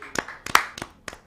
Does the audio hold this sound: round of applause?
yes